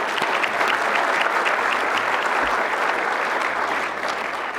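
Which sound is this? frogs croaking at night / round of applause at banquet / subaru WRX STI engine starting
round of applause at banquet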